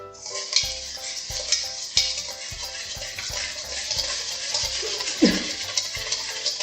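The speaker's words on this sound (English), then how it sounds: "is it fast stirring or is it slow stirring?" Bath bomb mixture is stirred in a bowl with a utensil, giving regular scraping taps and clinks at a slow, even pace, fairly quiet and close, with a brief louder scrape near the end.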